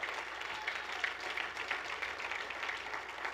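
A church congregation claps together in sustained, even applause, a dense patter of many hands heard at moderate distance and fairly faint, without speech over it.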